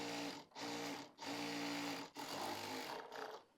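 Sewing machine stitching stretch fabric for winter pajama trousers, running in loud whirring bursts separated by short pauses, about four runs in quick succession.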